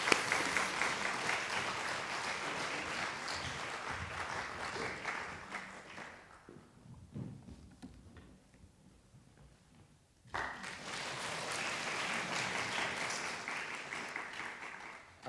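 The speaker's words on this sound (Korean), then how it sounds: "그래서 우리 선교사님 나올 때 이런 박수를 한번 맞이해 주시기 바랍니다." A church congregation bursts into sustained applause as a missionary comes forward, loud and full for several seconds, fading into a brief lull, then swelling again into another long round of clapping.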